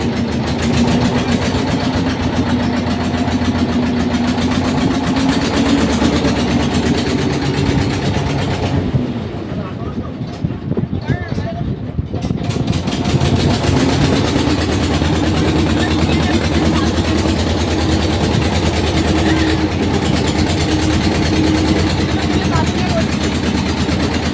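A boat engine drones steadily and loudly throughout a ride on the Ichhamati river, a continuous low hum that dips briefly midway, with people talking over it.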